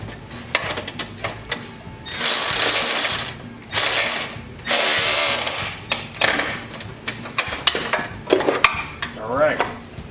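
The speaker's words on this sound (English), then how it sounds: "we got to get underneath there with a wrench to hold the back side of it. And then tighten it down" Wrench work on the ignition coil bolts of a Toro CCR 3650 snowblower: clicking metallic ratchet strokes and clanks in short bursts, with a few longer rasping stretches, close and fairly loud.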